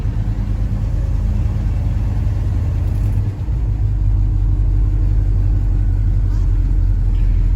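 A 1971 Oldsmobile 442 on the move gives off a loud, steady low engine rumble with a road drone, holding even apart from a brief dip midway.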